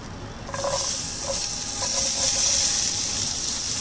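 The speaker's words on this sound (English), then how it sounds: "Now we will add our chopped onions." Chopped onions hit a hot pan of spluttering jeera for dhaba-style palak paneer, bursting into a loud, dense sizzle that holds steady for several seconds with faint stirring clicks underneath and no voices.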